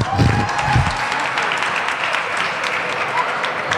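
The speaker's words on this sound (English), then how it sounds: "Give that brother one more applause." Audience applause rising for a speaker at a rally-style event, broad and sustained across the room, with a few voices briefly calling out near the start.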